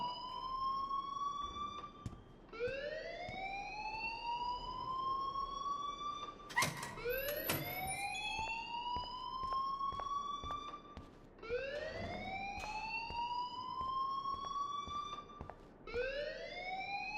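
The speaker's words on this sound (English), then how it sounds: "please turn off that alarm" A fire alarm in the Life Is Strange video game wails in repeated rising sweeps, one after another, loud and continuous across the whole stretch with no talk.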